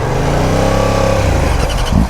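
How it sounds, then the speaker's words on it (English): A Yamaha MT-09 motorcycle engine drones loudly and close by while riding, holding a steady, buzzy pitch that rises slightly toward the end amid rushing wind. "I gotta remember I'm riding the MT-09."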